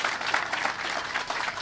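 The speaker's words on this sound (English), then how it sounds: "How about a round of applause for Mrs." An outdoor crowd at a park grand opening claps for an honoree under a tent, dense continuous applause of many hands, fairly close and even.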